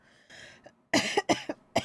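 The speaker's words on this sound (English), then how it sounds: "Don't mean to cough in your ears." Several sharp coughs land close to the microphone in a quick irregular cluster, following a short throat sound.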